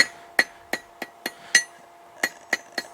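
Hammer blows on hot steel at an anvil while forging a fire poker, about nine sharp ringing strikes in an uneven rhythm, loud and close with no talk.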